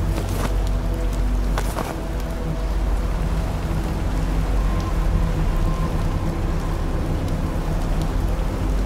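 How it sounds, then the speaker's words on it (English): Heavy rain in the video game In Sound Mind pours steadily and loudly, a dense wash of drumming drops with occasional low rumbles, continuous throughout. "It's raining quite heavily."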